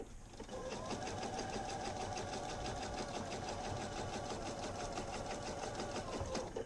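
A sewing machine stitches layered fabric for a pair of Simplicity 2481 pants, its rapid even needle chatter running close and steady for about six seconds with a mechanical hum underneath.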